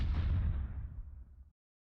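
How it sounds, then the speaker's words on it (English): Secondary explosions in the Close Combat World War II tank game: a loud deep rumbling blast that swells at once and fades over about a second and a half, then cuts to silence. "Secondary explosions over here."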